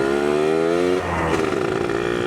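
A modified Suzuki Satria Hiu motorcycle engine runs steadily close by, giving a loud buzzing tone that shifts pitch and roughens partway through as the revs change.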